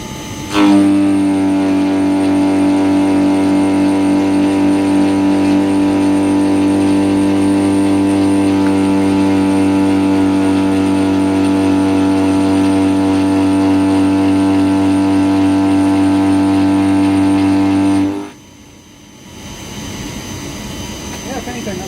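A milling machine takes a cut at about 3,100 RPM with feed raised 20 percent, giving a loud, steady whine with layered tones that holds evenly for about eighteen seconds, then stops abruptly.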